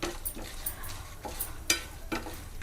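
A ladle stirs cashews and black pepper frying in ghee in a pan for pongal, giving a quiet sizzle with a string of scraping strokes and small clinks of metal on the pan at an uneven pace, heard close.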